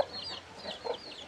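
Chickens cluck softly near a coop on a small rural farm, giving a few quiet, close calls in an irregular rhythm against faint background noise.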